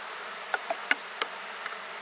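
A few faint, brief buzzes of black bees from a swarm being transferred at night, scattered individual insect passes against a quiet background.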